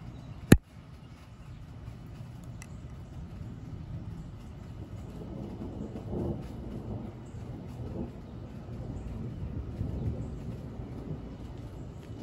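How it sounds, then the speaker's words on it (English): Distant rolling thunder from an approaching storm, a low broad rumble swelling and fading across the stretch with a sharp crack near the start, heard outdoors with no talking. "Here comes some thunder now."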